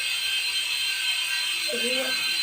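A small toy helicopter's rotor spinning, heard as a steady high-pitched mechanical whir with a faint ratcheting texture, constant and close throughout.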